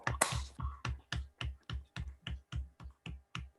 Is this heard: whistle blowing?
no